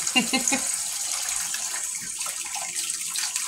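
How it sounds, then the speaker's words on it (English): Tap water runs steadily from a faucet while hands are washed with foaming hand soap in a kitchen, a constant hissing splash with a brief voice murmuring near the start. "Use my thieves wash hand soap, foaming hand soap to wash the hands."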